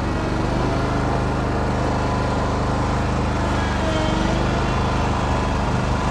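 A Scag lawn mower runs steadily while mowing on a hilltop, its engine giving a loud, continuous drone with no pauses.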